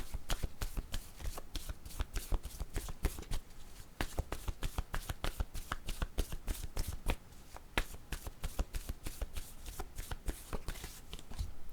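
Deck of cards shuffled by hand for a tarot-style reading, a dense run of rapid riffling flicks continuing steadily throughout, close and crisp with no talking.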